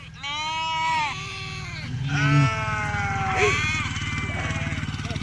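Several sheep from a flock of about two hundred bleat in long, wavering cries one after another, fairly close, over a low steady engine hum.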